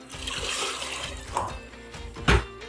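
Tap water pours into a cooking pan for spaghetti, a steady nearby splashing gush that swells with a brief louder surge near the end.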